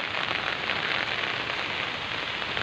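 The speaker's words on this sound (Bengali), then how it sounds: "খুব বৃষ্টি, বেরোতে পারছি না বাড়ি থেকে, চারদিকে জল জমেছে" Heavy rain pouring steadily, a dense even hiss of drops striking surfaces, continuous and close with no voices.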